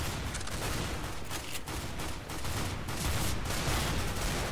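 Rapid gunfire in the CS:GO video game, a sustained loud fusillade of shots in quick succession that runs through the whole stretch with no pause.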